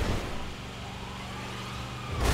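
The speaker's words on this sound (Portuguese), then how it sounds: "Eu fiz loop com a porcaria da ambulância sem querer." An ambulance drives in the video game GTA 5, giving a continuous droning engine and road rumble that swells slightly at the end, with no talk over it.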